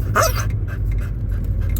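Several dogs pant in rapid, breathy bursts close by, over a steady low rumble like a moving vehicle.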